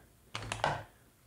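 Quick chopping taps from cutting food in the Toca Kitchen 2 game, three short crisp clicks in fast succession, fairly faint and with no talking.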